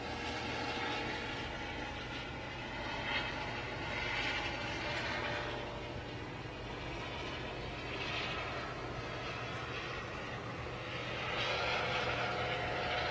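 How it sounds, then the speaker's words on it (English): A helicopter flies overhead at a launch pad site, giving a steady broadband drone of engine and rotor noise. The drone swells and recedes several times and continues without speech. "you can hear the helicopter overhead"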